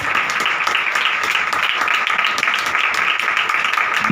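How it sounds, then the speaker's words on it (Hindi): A church congregation claps loudly and enthusiastically, a dense, sustained burst of many hands with no break throughout. "पाखरू की हजूरी के लिए जोरदार तालियां बजाओ"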